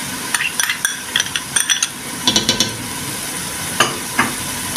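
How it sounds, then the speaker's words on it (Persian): Onion and tomato paste sautéing in a pan give a steady sizzle, punctuated by clusters of sharp scraping and clinking strokes of a spoon against the pan, no voices. "رب گوجه‌مون هم با پیازمون تفت میدیم"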